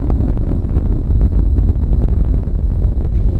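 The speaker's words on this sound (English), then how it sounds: "Engines beginning to rev up." Space Shuttle Discovery's engines roar during launch, heard as a steady, heavy low rumble with wind-like buffeting that stays constant and loud throughout, with no voices.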